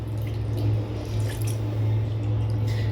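Cooked rice being strained for lemon rice, its cooking water draining and dripping steadily through a strainer, close by and fairly loud with a constant low hum beneath, no talking.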